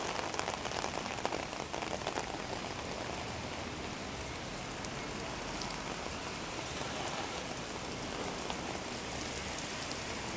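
Heavy rain pours steadily on a city street in Osaka, a dense, loud, unbroken hiss of drops hitting the ground and surfaces, heard close with no speech.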